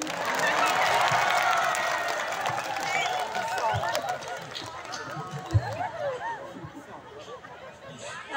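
An audience at an Indonesian gathering breaks into applause, a loose, crowded clatter of clapping mixed with voices and chatter, strongest at first and thinning out.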